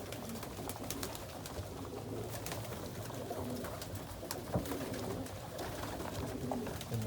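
Pigeons cooing steadily inside a loft, a low continuous murmur of many birds with scattered wing flutters and rustling throughout.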